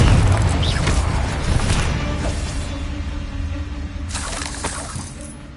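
Confringo spell blasts in Hogwarts Legacy rumble as a sustained, loud explosive roar that slowly fades, with a second crackling burst near the end and a steady low game hum underneath.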